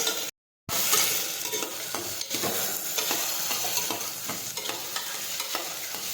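Chopped sponge gourd fries in a pan with asafoetida, with a loud, steady sizzle and the scrape of stirring throughout, after a brief silent gap near the start.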